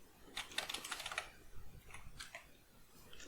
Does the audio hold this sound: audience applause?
no